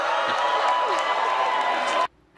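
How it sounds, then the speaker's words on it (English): Crowd booing DNC chairman Tom Perez during a Democratic unity tour event, a sustained loud roar of many voices from a large audience that cuts off abruptly near the end. "When Perez comes out, he's booed."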